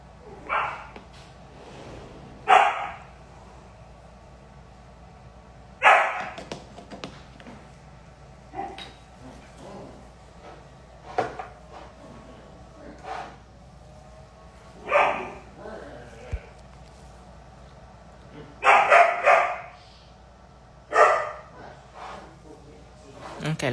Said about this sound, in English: Scary dogs.